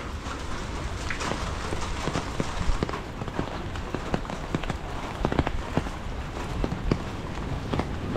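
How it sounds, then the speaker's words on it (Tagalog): Heavy rain pours down steadily at a coastal spot in Bucana, a dense hiss broken by sharp drip and splash impacts close by, with no talking. "Ang lakas ng ulan."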